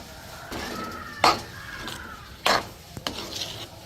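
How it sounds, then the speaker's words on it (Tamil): A spoon stirs thick black urad dal kali in a pot over lowered heat, giving soft scraping strokes and a few sharp knocks against the metal pot, close and otherwise quiet. "கிளறி கொண்டே இருக்கணும்"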